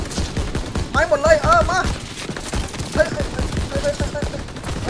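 Rapid bursts of gunfire from the World War II shooter Call of Duty WW2 rattle almost continuously throughout, mixed under a man's excited, loud talking.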